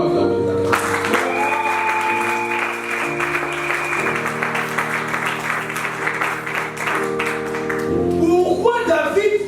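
A church congregation applauds in a sustained, dense wash of clapping that fills the room for several seconds. Sung or spoken voices carry over it, and the applause swells toward the end.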